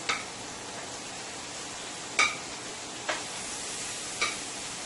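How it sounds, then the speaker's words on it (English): Shrimp and salmon fry in a 14-inch skillet with a steady, fairly quiet sizzle, broken by a few sharp spatula or pan clicks spaced about a second apart, with no one talking. "My shrimp is cooking up nicely here. And my salmon is cooking nicely here."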